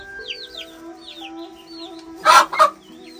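A mother hen clucks repeatedly while searching for her chicks, soft rhythmic clucks and chirps up close, followed by two louder, harsher squawks near the end.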